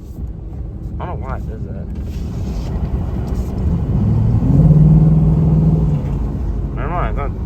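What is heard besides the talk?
car exhaust making an odd noise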